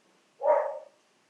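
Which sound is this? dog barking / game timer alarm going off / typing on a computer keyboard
dog barking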